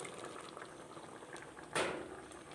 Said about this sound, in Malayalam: ഇപ്പം നന്നായിട്ട് കൂട്ട് തിളച്ചിട്ടുണ്ട്